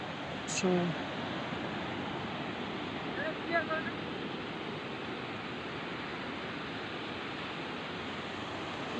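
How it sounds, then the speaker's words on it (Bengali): Big ocean waves roll in along the Cox's Bazar Marine Drive shore, a broad continuous surf roar filling the whole stretch, with brief bird-like chirps and faint voices in the background. "দেখতেই পাচ্ছেন কত বড় বড় ঢেউ"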